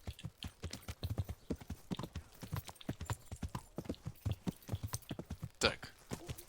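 Horse hooves clip-clopping in Kingdom Come: Deliverance, a steady rapid rhythm of sharp hoof strikes on hard ground, close and fairly loud, continuing evenly without pause.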